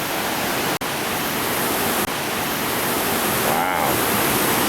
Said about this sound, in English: Crystal Creek races down here for 40 meters, 160 feet, in a sloped, narrow spillway to finally fall into a still, dark pool